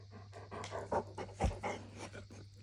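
A guide dog pants in quick, rhythmic breaths with a few soft whimpers mixed in, close and fairly quiet over a steady low hum, with no talking.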